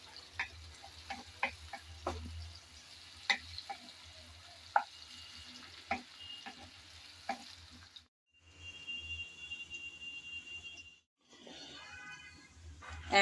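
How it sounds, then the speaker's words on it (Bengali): Onion and garlic frying in a pan for tomato chicken chow mein, with a steady low sizzle and repeated sharp clicks of a spatula stirring and scraping, broken by brief quiet gaps. "পেঁয়াজ রসুন ভালোভাবে নেড়ে চেড়ে একটু ভেজে নেব"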